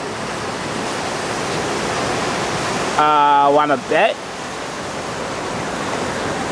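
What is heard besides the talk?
ocean waves on a beach in Thailand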